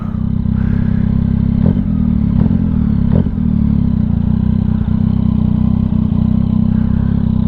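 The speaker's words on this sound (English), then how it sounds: "Just idling a little low." A motorcycle engine idles low and steady, a continuous close rumble with faint mechanical clatter and occasional small irregular pulses.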